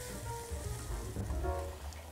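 Butter and flour sizzle steadily in a pan while being stirred into a roux for lasagna, a soft continuous crackle with faint scraping and no voices.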